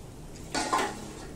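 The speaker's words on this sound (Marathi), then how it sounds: "ते आता आपण या छोट्या पातेलीमध्ये वाडग्यामध्ये काढून घेऊया" Fried peanuts for murmura chivda get tipped from a pan into a small bowl, making a short, soft rattling clatter of nuts against metal that lasts under a second.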